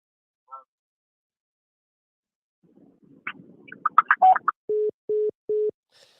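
After a call-in caller hangs up, a phone line gives three short, steady beeps of a disconnect tone, preceded by a brief burst of garbled noise on an otherwise quiet line.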